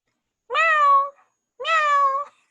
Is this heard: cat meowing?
yes